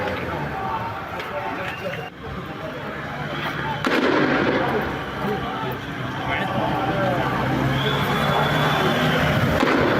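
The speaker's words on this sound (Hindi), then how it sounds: "गाजा पर हमले के बाद यरूशलेम में गोलीबारी हुई है।" Gunfire in Jerusalem near a camp in Abu Dis: sharp, repeated cracks and booming bursts echo at a distance, partly under continuous talking.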